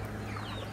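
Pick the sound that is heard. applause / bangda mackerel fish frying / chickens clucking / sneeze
chickens clucking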